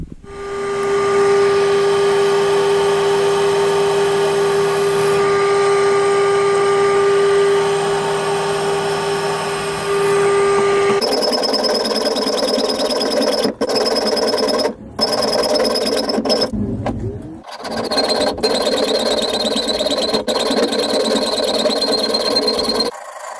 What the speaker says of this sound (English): Drill those holes, mark the slots, and cut them out.